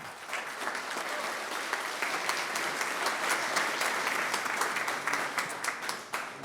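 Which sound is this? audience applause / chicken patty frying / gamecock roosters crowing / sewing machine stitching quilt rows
audience applause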